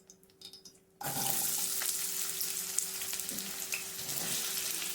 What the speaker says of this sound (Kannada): ಇವಾಗ ಎಣ್ಣೆ ಕಾದಿದೆ ಇವಾಗ ಆನಿಯನ್ನು ಮತ್ತು ಹಸಿಮೆಣ್ಸಿಕಾಯಿ ಹಾಕೊಂಡು ಹೋಗ್ಬೇಡಿ